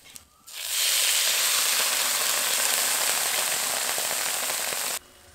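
A splash of water hits raw mango frying in a pan, setting off an abrupt, loud, steady hiss of sizzling steam that holds for several seconds, then cuts off sharply.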